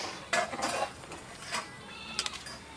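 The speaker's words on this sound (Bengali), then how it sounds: "সব কিছু দিয়ে দিয়েছি, আমি একবার ভালো করে নেড়ে নেব" Khichuri of rice and lentils gets stirred in a pot, giving a few scattered scraping and clinking knocks of a spoon against metal at moderate loudness, with quiet gaps between them and no talking.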